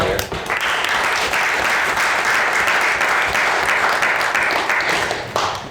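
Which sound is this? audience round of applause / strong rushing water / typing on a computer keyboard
audience round of applause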